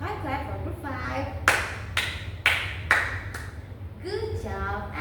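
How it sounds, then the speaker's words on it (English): Five sharp, evenly spaced claps from schoolchildren in a third-grade classroom, fairly close and loud, with an adult voice talking before and after the clapping. "Let's give 5 clap for group 5."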